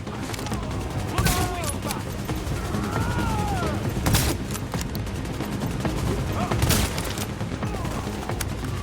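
Gunfire rings out while shooting enemies in Tom Clancy's The Division video game, with several loud sharp bursts of shots over a steady, busy game soundscape and a voice talking at times.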